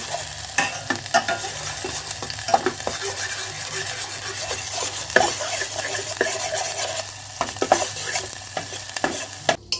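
Garlic, green chilli and whole cumin sizzle steadily in a pan for garlic Maggi, with scattered stirring clinks and scrapes over a continuous frying hiss, no voices.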